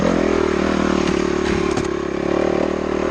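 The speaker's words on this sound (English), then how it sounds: "So here we are out on the CRF 250R," A Honda CRF 250R dirt bike rides single track, its engine droning loud and close with a steady buzzing note, a brief rev surge and some clattering of the chassis over the ground.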